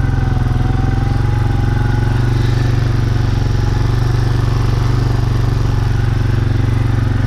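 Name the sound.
quad bike driving while spreading fertilizer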